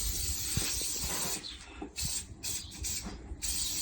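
Cooking oil sprayed onto a preheated barbecue: a steady, close hiss lasting several seconds, briefly dipping and resuming in short bursts, with no talking.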